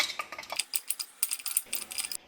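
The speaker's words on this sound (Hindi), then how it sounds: "ये देखिए पॉपकॉर्न के फूलने की आवाज़ आ रही है।" Popcorn bursting inside a closed pressure cooker over a medium-low gas flame, a rapid, irregular patter of sharp little pops and clicks, fairly quiet and steady throughout.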